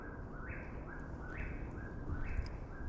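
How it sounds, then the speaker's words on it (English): A bird calls repeatedly in a rising, siren-like tone, three or four times at steady intervals, over a constant background hiss, on a sunset hike at Wolf Hill near Providence. "Hear that bird?"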